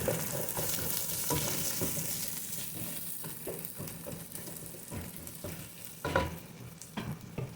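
Sliced red and white onions frying and sizzling in a pan, a steady close crackle with periodic stirring scrapes and no talk.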